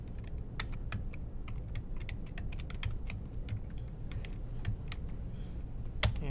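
Rapid typing on a computer keyboard while writing code, a steady run of light clicks with a few sharper key strikes, alone with no talk.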